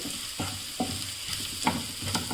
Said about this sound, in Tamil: இதெல்லாம் அந்த ஆனியனோடவே சேர்ந்து நல்லா எண்ணெயில் பொரிஞ்சு வதங்கினா தான் வாசனை நல்லாயிருக்கும்.